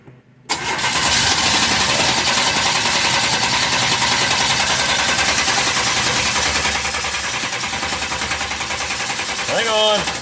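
A gasoline engine cranks hard and fast on a strong battery, a steady loud churning whir sustained for several seconds without catching, ending with a short burst of voices.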